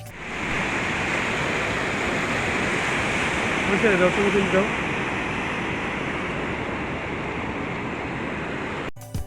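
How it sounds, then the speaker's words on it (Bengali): Rough sea waves crash against rocks at Patuatek beach near Cox's Bazar, a loud, continuous roaring surf wash that fills the scene with steady broadband noise and no break. "পাথরের বুকে আছড়ে পড়ছে উত্তাল ঢেউ"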